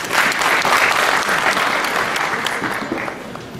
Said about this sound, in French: Applaudissons pour les Canadiens.